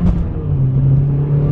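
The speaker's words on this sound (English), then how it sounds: "give it a hard shift in a second" A car engine, on a car fitted with a short-throw shifter, hums loud and steady with a low rumble and slight revving throughout, with no clear shift break.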